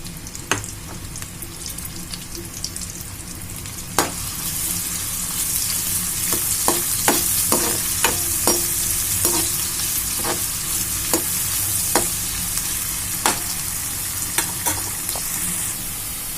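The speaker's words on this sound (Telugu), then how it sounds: "ఆయిల్ వేడైందండి. ఇప్పుడు సన్నగా కట్ చేసుకున్న ఉల్లిపాయ ముక్కలు వేసుకున్నాను." Thinly sliced onions sizzle in hot oil in a pan, a steady loud frying hiss broken by repeated sharp scrapes and taps of a spoon stirring, with no talking.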